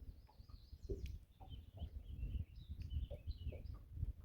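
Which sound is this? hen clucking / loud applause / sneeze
hen clucking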